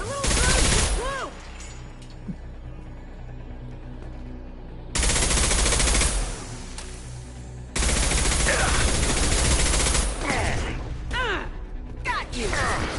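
Rifle fire and action effects in a shooter video game come in loud bursts separated by quieter stretches of game noise, close and harsh, with a player's voice over parts of it.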